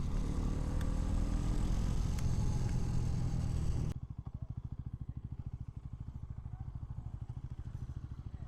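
A Bajaj NS400Z motorcycle with a quick shifter, first a loud sustained engine roar with strong low rumble, then a sudden drop to a rapid, evenly pulsing idle-like thrum at close range.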